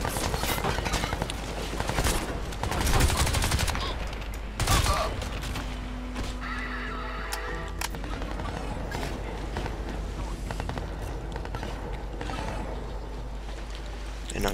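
Automatic rifle fire from the video game Crysis 2 comes in dense, loud bursts near the start, then fades into quieter game sounds with scattered shots and some talk.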